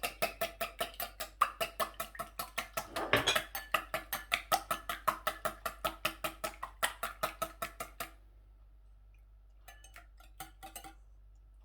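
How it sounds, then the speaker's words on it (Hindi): Two eggs being whisked in a bowl for chicken noodles, a fast steady run of crisp clicking beats from the whisk against the bowl that stops abruptly, followed by a few scattered light taps. "अंडे जो कि मैंने लिए थे 2 अदद, उनको इस तरीके से हम"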